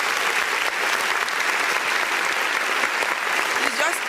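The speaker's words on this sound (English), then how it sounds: "And please, can you give him a round of applause?" Steady applause from a crowd, dense clapping filling the whole stretch at an even loudness with no pauses.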